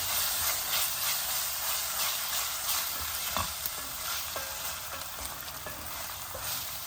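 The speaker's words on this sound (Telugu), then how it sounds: "ఈ అల్లం వెల్లుల్లిపాయ వేస్ట్ పచ్చి వాసన పోయే వరకు వేగాలండి" Ginger garlic paste frying in a pan for palak paneer, a dense continuous hissing sizzle with occasional spatula scrapes, close and fairly loud, no speech.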